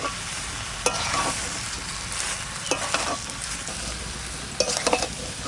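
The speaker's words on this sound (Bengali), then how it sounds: "এই মশলা ধোয়া জলটা দিয়ে দিচ্ছি।" Spice-washing water poured into a hot pan while cooking village-style jackfruit biryani: steady sizzling and frying hiss with a spoon stirring and clinking against the pan in irregular bursts.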